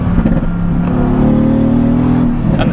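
Mercedes AMG GTS twin turbo in a Black Series body kit accelerating, a loud, close engine note climbing steadily in pitch with a strong, continuous growl.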